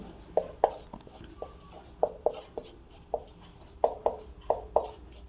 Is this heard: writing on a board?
yes